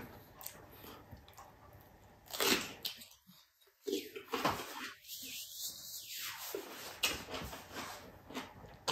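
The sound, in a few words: biting crunchy mustard stem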